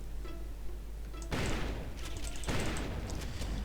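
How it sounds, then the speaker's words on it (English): Rapid bursts of automated turret gunfire in a video game, a dense crackling barrage that starts abruptly partway through and continues loud and sustained to the end, alone without talk. "Before it didn't even play the gunfire sound,"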